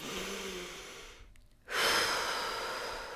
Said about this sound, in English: take a big breath with me